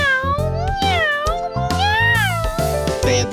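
A cartoonish, sung meowing line rides over a bouncy musical backing, several drawn-out meows gliding up and down in pitch.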